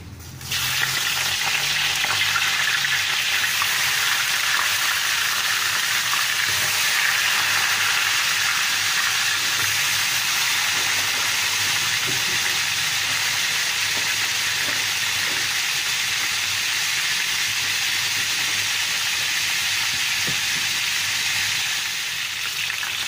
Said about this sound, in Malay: jom kita panaskan kuali. Goreng ayam dulu.